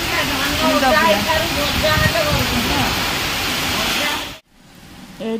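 Steady rain falls in a dense, hissing wash for about four seconds, then stops abruptly and returns only faintly, with no speech in the clip.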